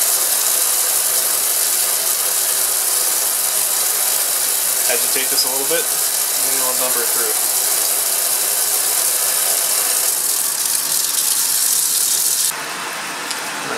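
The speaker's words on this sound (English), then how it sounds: "So let me get the vacuum on." A vacuum pump drones steadily and loudly throughout a vacuum filtration in a lab, while someone talks and glassware clinks briefly partway through, before the pump's tone drops slightly near the end.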